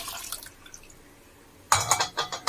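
Cauliflower cooking water poured into a pot for almond soup, a short splashy rush of liquid that starts suddenly and runs loudly for about a second after a quiet stretch of faint drips.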